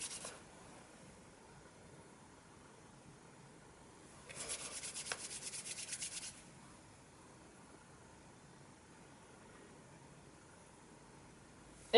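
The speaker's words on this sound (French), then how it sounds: "je frotte, je frotte." Hands rub briskly for about two seconds during a relaxation workshop massage, a soft, close, steady friction sound set in near silence, followed much later by a single sharp knock.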